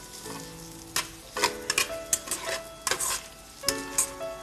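Vegetables and egg stir-fried in a hot pan with fish sauce, with a steady sizzle and a spatula scraping and clinking against the metal in irregular strokes, close and moderately loud.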